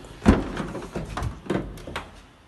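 Sliding side door on a Ford Transit Connect 1.6 TDCi L1 panel van, a work van with ply lining: a few close, fairly loud rolling thuds and knocks as the door runs along its track and latches, with no talk.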